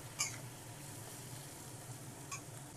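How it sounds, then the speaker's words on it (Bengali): Carrots and beans sizzling in a pan over a high gas flame, a faint steady hiss with two brief clinks of a utensil. "এবার আমি ভেজে নেব একটু গাজর আর বিনস।"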